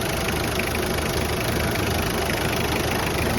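Car engine idling steadily for sale, a continuous loud even rumble close by with no talk.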